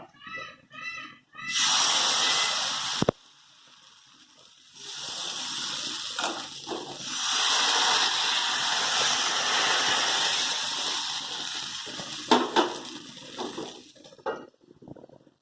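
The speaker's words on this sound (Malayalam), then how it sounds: "ചട്ടി ചൂടായി. ഇനി മാവ് അതിലേക്ക് ഒഴിക്കുക." Palappam batter hits a hot pan and sets off a loud, sustained hiss and sizzle that swells, fades and returns, with a few sharp clanks of the pan. Faint voices and clatter come before it begins.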